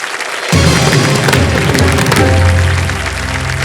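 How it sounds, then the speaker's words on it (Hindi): Studio audience on the KBC game show bursts into loud, sustained applause that starts abruptly and stays dense, with booming music hits layered over it. "ताली बज जाए"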